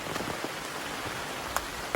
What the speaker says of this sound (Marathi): पाऊस पण आता जोराचं सुरू झालेलो